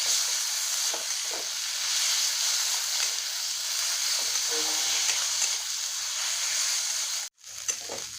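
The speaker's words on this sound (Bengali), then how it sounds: "আদা রসুনটা একটু ভেজে নেব।" Ginger garlic paste frying with capsicum and onion in a pan on a gas stove; a steady, close sizzling hiss runs throughout, broken by a brief cut near the end.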